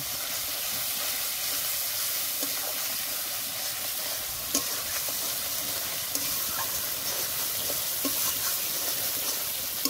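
Turmeric and salt spice paste fries and is stirred in a pan for a Bengali lote fish curry, giving a continuous loud sizzle with occasional scraping stir sounds and no talking.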